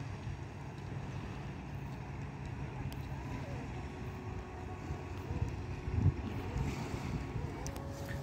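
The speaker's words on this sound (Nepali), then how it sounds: "एउटा डुङ्गा रहेछ चलिरहेछ" A boat moving on open water at dusk, with a steady low engine drone and constant wind and wave wash throughout, one brief louder bump near the end.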